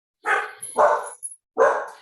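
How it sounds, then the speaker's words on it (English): A dog barks three times in short, loud bursts with brief gaps between them, fairly close and with no other sounds around. "Sorry about the barking."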